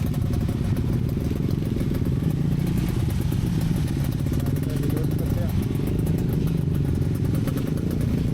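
Electric motorcycle on a slow touring ride from Cirebon to Yogyakarta on the southern route, giving a steady, continuous low road and wind rumble with light clattering throughout.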